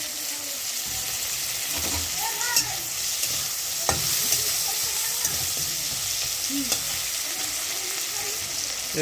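Ginger paste fries in a pan while a spoon scrapes and stirs it, a continuous sizzle broken by scattered clinks and scrapes, close and steady, with no voices.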